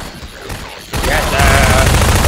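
Video game gunfire in Half-Life 2, a quiet stretch that suddenly erupts into loud continuous automatic shooting and firefight noise, sustained to the end.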